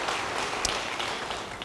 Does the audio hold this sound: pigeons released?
no